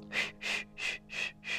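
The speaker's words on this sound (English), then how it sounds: "You hear that? You're breathing in," Five even, rhythmic breaths during a breathing exercise, each a soft airy rush of similar length, close and fairly quiet with no talking.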